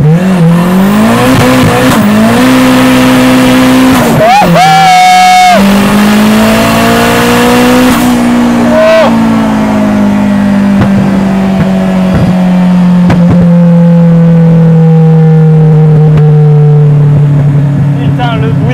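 A Citroën Saxo VTS turbo revs hard with its exhaust valve open, a loud close engine roar rising and falling through repeated throttle blips and long sustained pulls, with a few brief voices over it.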